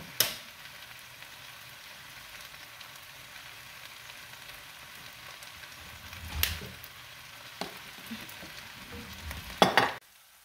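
Onions caramelizing in a frying pan give a steady, moderate sizzle and crackle throughout, with a few sharper utensil clinks and stirring scrapes near the middle and the end.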